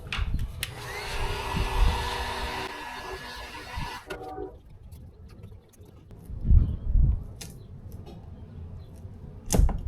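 A heat gun blows steadily on a plastic C6 Corvette badge, a loud close whirring hiss for about four seconds that then cuts off, followed by faint handling knocks and a sharp click near the end.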